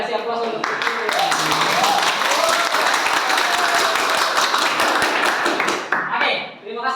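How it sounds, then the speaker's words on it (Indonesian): Classroom audience applauding during a counseling lesson on emotional intelligence; a steady, loud burst of many hands clapping continues for several seconds, then fades out near the end. "Boleh kasih aplaus untuk"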